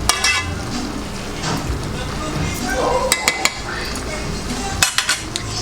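Rice being stirred in a metal cooking pot, with a spoon scraping and clinking against the sides in a few sharp knocks over a steady kitchen background, and a voice speaking briefly.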